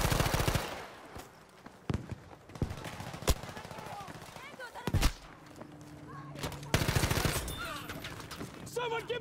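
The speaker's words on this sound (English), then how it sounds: "That's one of their machine gunners!" Machine gun fire in Battlefield 5 on the Solomon Islands map, with repeated sharp bursts and scattered single shots, some near and loud, others distant, mixed with battlefield clatter and voices shouting.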